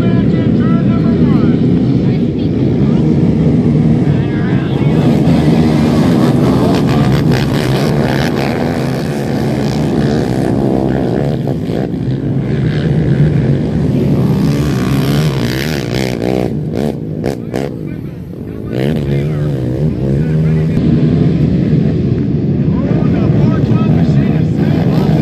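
Adult ATV motocross race at Hunt Club, 2017: several quad engines roar and rev continuously at close range, a dense loud mechanical drone rising and falling as riders race, with a PA announcer talking over it.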